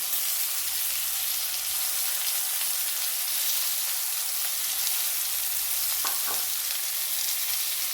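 Stuffed eggplant frying in sesame oil in a kadai, a steady dense hiss of sizzling oil throughout, with a couple of brief stirring scrapes near the end.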